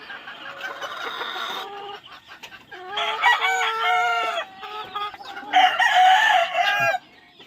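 Chickens cluck and a rooster crows nearby, with several bursts of calls and short pauses between them.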